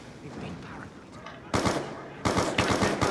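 Gunfire in a zombies-mode video game: bursts of rapid, loud shots break out after a quieter stretch, with a second volley of fast repeated cracks following, over faint background game sound.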